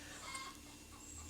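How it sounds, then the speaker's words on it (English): A hen clucks outside, faint and distant, a few soft clucks over a quiet room background. "Don't pay any attention to the chicken outside."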